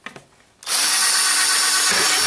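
A power drill bores holes into a homemade stone guard, starting with a few faint knocks before a loud, steady, continuous whine that runs to the end without a break.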